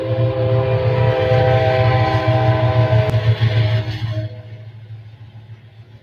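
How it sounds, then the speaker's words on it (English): A train passes nearby, loud sustained rumble with a steady horn-like tone that fades out after about four seconds, with no talk. "Here comes the train."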